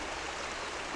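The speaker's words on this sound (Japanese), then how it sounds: "川のせせらぎ、風に揺られる木々、鳥の声。" A river stream babbling steadily near the Unganji Zen temple in Tochigi, a soft, continuous rush of flowing water with no other sounds.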